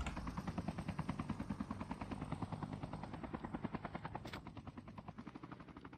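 Rapid rhythmic rotor chop of a helicopter in Call of Duty Mobile, loud and steady, with the blade beat slowing slightly near the end and no speech over it.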